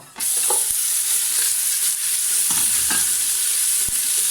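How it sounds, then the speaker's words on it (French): Meat hitting hot oil for a chorba, a sudden loud sizzle that then holds steady and close, broken by a few sharp clicks from the pan or utensil. "Alors là, on a mis un petit peu d'huile. Je vais mettre ma viande"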